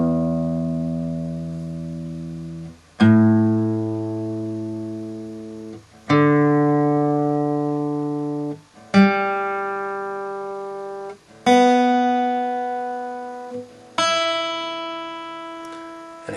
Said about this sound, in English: just go over the strings again just to make sure they are still in tune